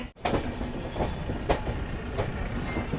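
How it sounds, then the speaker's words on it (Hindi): Jansewa Express passenger train running on rails, heard from inside as a steady rumble with regular clicking wheel-on-joint knocks, fairly loud and close, no talk. "अपनी जन सेवा एक्सप्रेस दौरम मधेपुरा से फ़िलहाल रवाना हो चुकी है"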